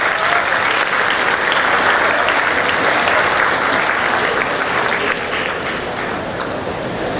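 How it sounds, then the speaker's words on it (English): An audience applauds graduating PGDM students at a management institute's convocation, producing loud, dense and steady clapping from a large crowd that holds for several seconds before easing slightly. "Why don't you please give a big round of applause for yourselves."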